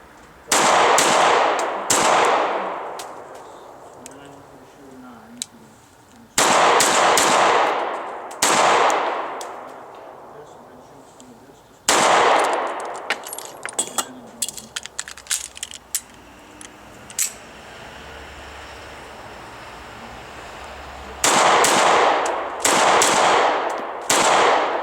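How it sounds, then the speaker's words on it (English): A Sig Sauer P938 pistol fires in quick bursts of rapid shots during combat-style shooting at a range. The sharp reports come in several tight clusters separated by pauses, with faint clinks and handling noises between them. "I'm just going to do some combat style shooting, so shooting center mass rapidly"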